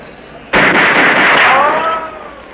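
A single loud, sharp gunshot fired at a bottle and a tin can cracks out of near-silence, followed by a long rolling echo that fades over about two seconds.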